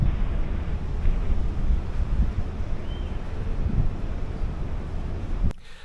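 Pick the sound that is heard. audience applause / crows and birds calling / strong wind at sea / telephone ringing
strong wind at sea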